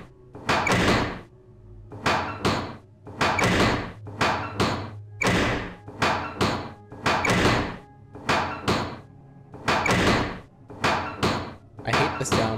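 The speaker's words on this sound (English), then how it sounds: "Into the squeaky trapdoor." A squeaky trapdoor in the Nancy Drew game Treasure in the Royal Tower gives a long run of loud, repeated creaking and thumping bursts in a steady rhythm, close and dominant throughout.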